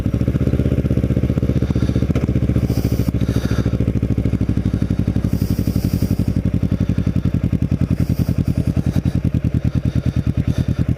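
A motorcycle rides around Cape May Beach, its engine a loud, close, steady throbbing rumble with a rapid pulsing beat throughout, with wind rush in brief bursts.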